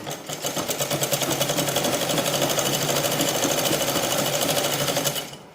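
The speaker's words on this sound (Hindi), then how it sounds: "अब मैं एकदम सीधी सिलाई लगा दूँगी" A sewing machine runs a continuous straight stitch on a can-can petticoat, a loud, close, rapid mechanical rattle holding an even pace for about five seconds before stopping.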